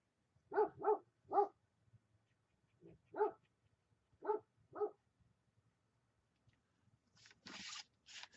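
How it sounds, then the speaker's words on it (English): A dog barks indoors in a series of loud sharp barks, two quick pairs, a single, then another pair, with quiet gaps between, followed by a short rustling noise at the end. "It's my dog. Sorry about that."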